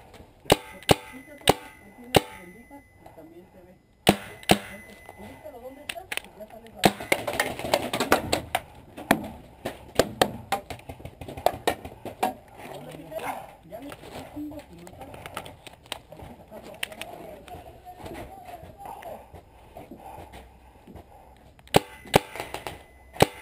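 Paintball markers pop sharply on an outdoor paintball field, scattered single shots and quick bursts near and farther off, while players shout and talk throughout.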